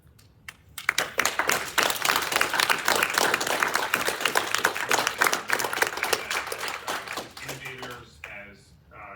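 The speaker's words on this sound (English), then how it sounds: "So I applaud each and every one of you." Audience at a Chicago app showcase awards presentation bursts into loud, sustained applause with dense clapping that fades near the end, as a voice begins over the tail.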